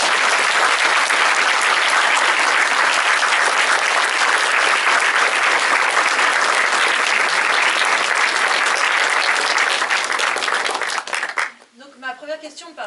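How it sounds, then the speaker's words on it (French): A cinema audience at a film premiere and discussion applauds actress Daisy Ridley: dense, loud, sustained clapping fills the room for about eleven seconds, then stops abruptly as a voice begins speaking. "Est-ce que vous pouvez encore applaudir s'il vous plaît Daisy Ridley qui est quand même là?"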